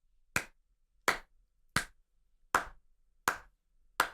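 A single person's slow clap, six sharp, isolated hand claps spaced evenly about three quarters of a second apart, close and crisp with silence between.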